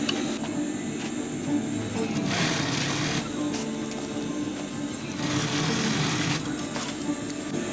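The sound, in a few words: sewing machine sewing a sustainment pouch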